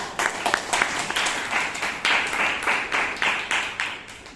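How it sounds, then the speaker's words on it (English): A Toastmasters meeting audience claps in a small room, a modest round of distinct, fairly close handclaps that keeps up steadily for a few seconds. "Give an applause, come on, okay."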